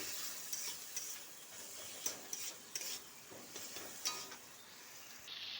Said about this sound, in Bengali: দিয়ে দিচ্ছি হলুদ গুঁড়া সব ভালোভাবে একসঙ্গে মিক্স করে নিচ্ছি